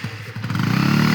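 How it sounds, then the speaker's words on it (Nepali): A motorcycle engine sputters and catches close by, then settles into a loud, fast, steady idle for the brief moment heard. "म यहाँ बाइक पछाडि सार्छु"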